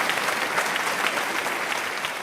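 Theatre awards audience clapping steadily, a dense, even wash of many hands with no voices standing out, holding the same level throughout.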